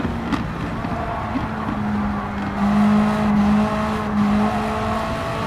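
A loud race car engine in Gran Turismo 7 drones steadily, pitch rising and falling as it revs on and off the throttle.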